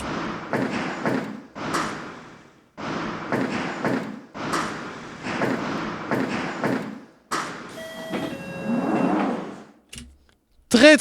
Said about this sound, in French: Comme j'ai dit, c'est des sons de train.